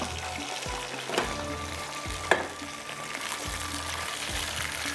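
Onion frying in oil in a pan for a rice dish, a steady close sizzle with a few soft stirring scrapes and clinks, no talk.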